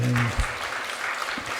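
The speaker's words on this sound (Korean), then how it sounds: "우리 박수 한번 할까요?" A short burst of clapping from a congregation at a Friday church prayer service, steady and fairly close, following a brief spoken word.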